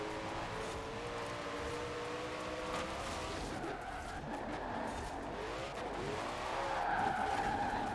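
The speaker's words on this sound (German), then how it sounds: "Oh, nicht so weit driften." A car drifts with screeching tires in the Forza Horizon 4 racing game, a sustained skid squeal over engine noise, fairly quiet and steady throughout.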